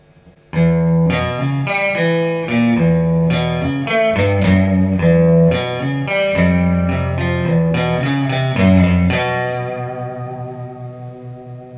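Electric guitar chords and picked notes ring out through an amplifier using its built-in reverb, with a spacious reverb tail lingering after each strum, fairly loud and continuous.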